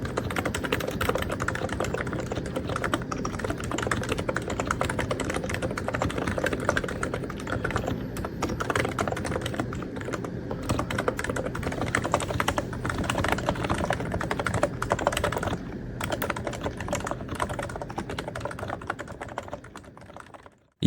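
Continuous rapid typing on a mechanical keyboard, close up, with dense clacky keystrokes running steadily for the whole stretch.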